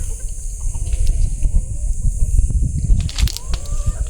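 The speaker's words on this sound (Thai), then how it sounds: "เนี่ยเป็นไก่ก็หลาย" Chickens on a rural Lao farm clucking in short, scattered bursts at close to middle distance, with soft rustling and ambient outdoor noise between calls.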